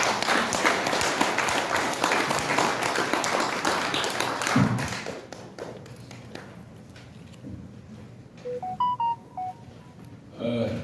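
A crowd at a political rally claps to welcome a former defense minister to the stage, the applause dense for several seconds before fading into a quieter room, followed by a few short electronic beeps.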